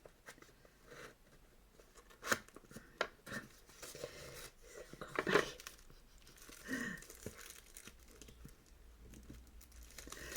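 A decorated gift box is worked open with faint, scattered crinkling, tearing and tapping of paper and cardboard, quiet and close, with small bursts of handling.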